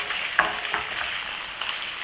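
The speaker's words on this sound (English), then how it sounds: "Everything is slow roasting, slow frying." Small pieces of pork slow frying in their own rendered fat give a steady, faint sizzle with a few soft crackles and stirring taps, heard alone.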